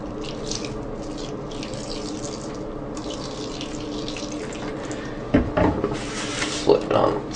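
Liquid sloshes and splashes as 91% isopropyl alcohol is spilled onto a Lenovo ThinkPad T61 laptop keyboard, wet pouring bursts near the end over a steady background hiss.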